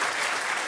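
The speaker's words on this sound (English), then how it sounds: "He deserves a round of applause." Dense, steady applause from a conference audience of heads of mission and envoys in Ghana, a continuous wash of many hands clapping at even loudness with no voices over it.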